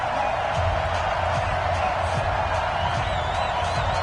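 A stadium crowd in an EA Sports NFL game, Bengals against Ravens, fills the air with a steady, loud, broad roar of cheering, unbroken throughout with faint scattered shouts within the wash.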